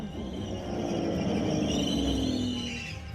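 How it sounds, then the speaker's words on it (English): An Aston Martin Vulcan's brakes squeal, a loud, piercing high-pitched squeak that holds steady for about three seconds over a low rumble of the car. "That's the brakes. They are quite squeaky."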